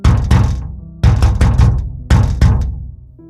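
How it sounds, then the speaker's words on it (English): Loud knocking on a door, a single knock then a quick pair and another pair, sharp and close with no voices. "A faint knock at the door."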